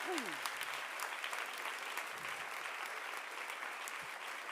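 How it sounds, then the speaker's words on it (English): Audience applause at an award ceremony for Adele's Sherry Lansing Leadership Award, a steady, moderately faint wash of clapping from a crowd lasting several seconds, with a few brief vocal sounds mixed in. "give him a big clap."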